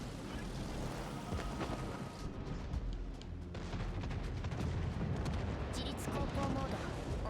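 Naval artillery in World of Warships Legends: heavy rumbling booms and crackling impacts roll through a dense, noisy battle soundscape, with talk partly over it.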